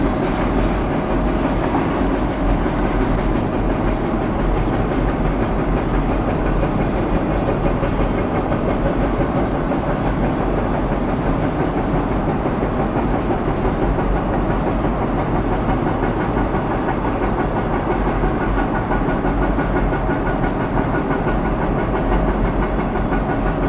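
A Norfolk Southern freight train led by a pair of SD40-2 locomotives rolls steadily along the tracks, producing a continuous loud rumble with wheel clatter and hiss that holds at a constant level throughout, with no talking.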